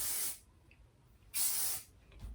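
Two sharp bursts of aerosol hairspray, each a loud, close hiss lasting under a second, separated by a quiet pause.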